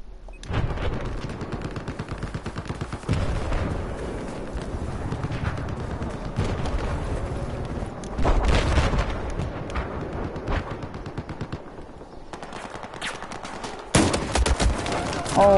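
Battlefield 4 combat with repeated gunfire, including grenade-launcher fire, coming in bursts and heavier booming volleys, with a player talking intermittently over the shooting.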